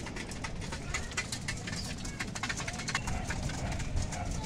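Pigeons coo in a loft at feeding time, several low rolling coos overlapping against a steady background hiss, moderately close with no talking.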